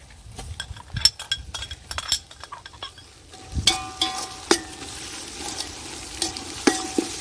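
Ginger garlic paste frying in oil in a pan for prawn biryani, a soft continuous sizzle broken by repeated metallic clinks and scrapes of a spoon stirring against the pot, close and alone.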